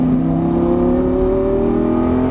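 Lamborghini Gallardo accelerating on a race track at Exotics Racing in Las Vegas, its engine a loud, steady, rising drone heard close up throughout, with no talk.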